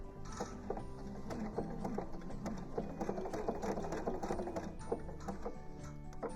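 A sewing machine runs steadily, couching thin yarn with a very narrow zigzag stitch in an art quilt; a continuous, close mechanical whir with fast rhythmic needle clatter and no talking.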